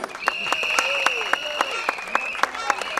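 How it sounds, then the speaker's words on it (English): Crowd at a speedway Best Pairs meeting in Ryde cheering and clapping for a rider, a steady roar with sharp claps and bursts throughout, under a continuous tonal hum. "I'm sure you've got a great cheer for the man from Kent, who is Taylor Hampshire."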